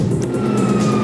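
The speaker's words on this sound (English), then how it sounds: "You hear that? Sirens." Police sirens wailing in the Grand Theft Auto V video game, a loud steady tone filling the short moment with traffic rumble beneath.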